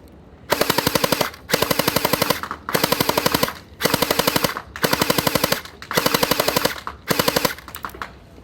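A Lehui Kriss Vector V1 submachine-gun gel blaster fires in rapid bursts, about seven loud, close full-auto strings of fast, even shots separated by short pauses.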